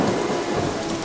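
Heavy rain during a thunderstorm in a children's cartoon, a loud, steady hiss of falling water with a low rumble underneath, heard alone in a brief burst.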